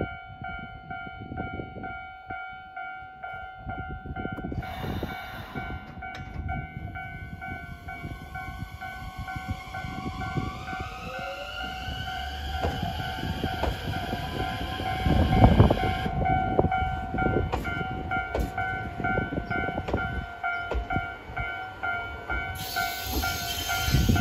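A late-night Hibiya Line subway train pulls away slowly, its electric motors whining upward in pitch over rumbling, clattering wheels and a steady hum.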